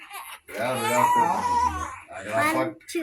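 A baby at home cries in drawn-out wailing bursts, separated by a brief pause and breathy catches, fairly close and steady in loudness.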